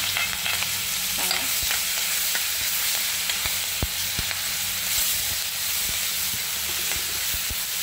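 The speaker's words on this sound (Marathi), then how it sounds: "हा ठेचा आपल्याला टाकून घ्यायचा तळून घ्यायचा तेलामध्ये" Crushed chili thecha frying in hot oil, a steady, loud sizzle and hiss that fills the whole stretch, with sharp scraping clicks of a spatula stirring the pan at irregular moments.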